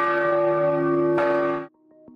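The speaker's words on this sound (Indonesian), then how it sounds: "kalau lonceng Angelus sudah berbunyi" The Angelus church bell rings close and loud, a second strike landing over the ringing tone before it fades quickly.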